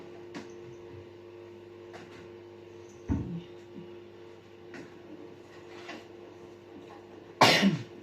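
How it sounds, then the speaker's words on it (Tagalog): A single sharp cough bursts out near the end, with a fainter one earlier, over a quiet room with a steady low hum. "Konting ubo lang naman po."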